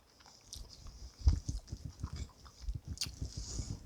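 Close chewing of a bite of cottage cheese tuna salad with parmesan, soft rhythmic mouth sounds repeating steadily for a few seconds, no talking.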